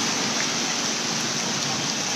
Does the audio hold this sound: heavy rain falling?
yes